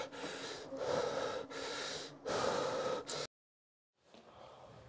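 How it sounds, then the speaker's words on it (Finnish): Heavy, laboured breaths after a fitness stress test: several long, loud in-and-out breaths close to the microphone, then a brief silence and another breath beginning. "nyt saat ainoastaan hengittää ja tiputtaa sitä sykettä"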